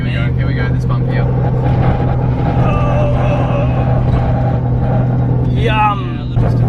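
A Toyota JZX100 Chaser on a dry road, its engine droning loud and close from inside the cabin as the car rolls over a bump, with people talking over the steady roar.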